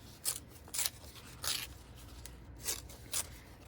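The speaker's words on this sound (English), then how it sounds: "I'm going to use my little scissors" Small scissors snip through sewing thread in five separate crisp cuts, close and fairly quiet, spaced about half a second apart with short pauses between.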